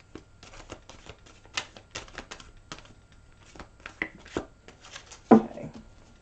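Quiet riffling and tapping of cards being shuffled, with soft irregular clicks and a brief louder flutter near the end, no talking.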